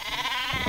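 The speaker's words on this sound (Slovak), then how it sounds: "Jaká ovca!" In Worms Reloaded, the sheep weapon lets out a short, loud bleat lasting under a second, a wavering cartoonish baa heard alone.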